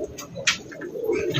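A pigeon of the Chotial breed giving a few soft, low coos close by, with a brief sharper rustle partway through and quiet background noise.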